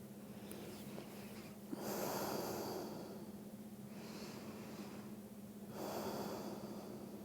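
Slow, deep breaths during a yoga session, with each long, loud exhale whooshing out near the microphone about every two seconds over a faint steady hum.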